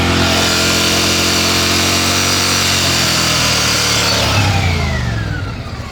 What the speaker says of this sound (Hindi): अब आप इंजन के आरपीएम सुनिए ज़रा।